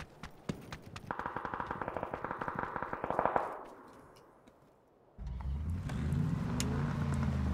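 A car in the video game PUBG revs up with a low, steady engine drone after a burst of rapid, rattling gunfire-like pops and a short lull.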